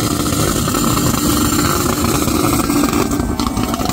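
A loud, continuous engine roar from a highly modified, tuned Nissan Patrol at a drifting event in Qatar fills the space with a rough, buzzing rumble and no pauses, revving close by.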